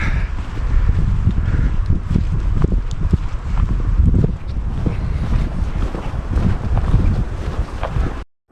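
Gusty wind buffeting the microphone on the Rampart Ridge Loop trail near Longmire, Washington, a loud continuous rumbling roar that cuts off abruptly at the end.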